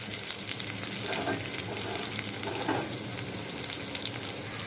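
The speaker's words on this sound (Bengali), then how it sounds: "শুকনা মরিচ এগুলো ভেজে নিচ্ছি।" Onion, garlic, cumin and dried chilies fry in hot oil for a beef and potato curry, giving a steady, close crackling sizzle with brief louder bursts throughout.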